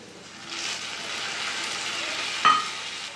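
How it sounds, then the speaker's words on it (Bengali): Ginger garlic paste hits fried onions in a pan for a Bengali chicken dish, giving a steady, close sizzle that swells after a moment, with one brief clink of a utensil near the end. "পেঁয়াজটা ভাজা হয়ে গেছে, দিয়ে দেবো আদা রসুন বাটা"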